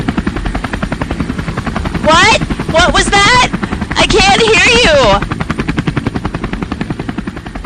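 A helicopter sound effect with loud, rapid rotor chop pulsing steadily throughout, close and dominant, while a voice talks over the middle stretch.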